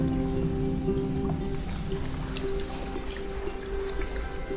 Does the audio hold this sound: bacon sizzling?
no